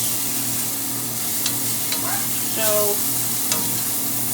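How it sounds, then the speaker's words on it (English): Onions and shallot sauté in leftover grease in a pan on medium-high heat, a steady close hissing sizzle with a few faint clicks and a brief tonal squeak, and a single short spoken word. "I have added the onions and the shallot into that grease that was left in the pan"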